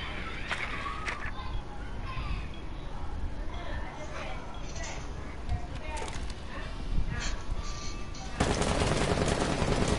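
Rapid gunfire from a bomb-defusal style shooter video game crackles in bursts over a continuous background of game noise, with the volume rising sharply near the end.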